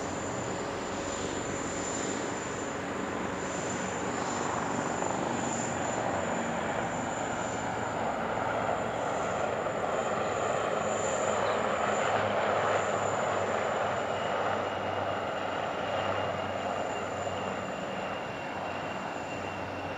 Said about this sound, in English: The aircraft in question is the Dhruv Advanced Light Helicopter, developed by Hindustan Aeronautics